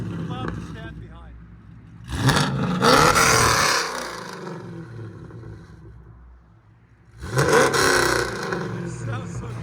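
Chevy Camaro ZL1 with a straight-pipe exhaust revving hard: two loud bursts of roaring engine separated by a lower idle rumble, heard close up.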